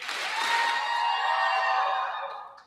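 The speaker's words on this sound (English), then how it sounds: "let's acknowledge them with a pirate clap" At a Marshfield High School graduation, the crowd answers with a pirate clap, a short, bright burst of unified clapping and voices that holds steady for about two seconds and then fades.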